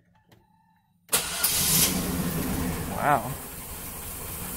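A 1998 GMC Suburban engine cranks and fires after a second of near silence, then runs loud and uneven at a rough idle with a brief surge, close by, as a voice exclaims once.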